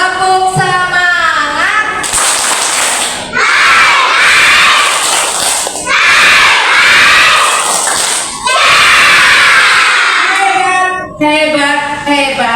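Kindergarten children at school loudly chant and clap in rhythmic bursts of a spirit clapping cheer. Their shouting voices and claps come in repeated loud waves between a teacher's brief speech at the start and end.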